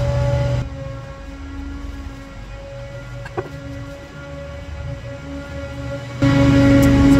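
A ride-on lawnmower or similar small powered equipment drives down a street, a steady, fairly loud motor drone with a constant tonal hum that dips slightly in level before swelling louder again near the end.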